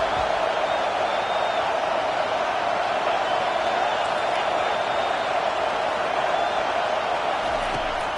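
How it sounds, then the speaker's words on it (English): A home stadium crowd at a football game keeps up a dense, steady roar from start to finish, with a faint commentator voice beneath the noise. "how nice is it to have the home crowd going absolutely bananas?"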